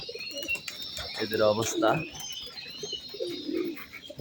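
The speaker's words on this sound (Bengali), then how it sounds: "এই যে মোটামুটি নিউ অ্যাডাল নর কবুতরগুলো" New adult male pigeons cooing in a loft, low throaty coos repeating close by while someone talks over them.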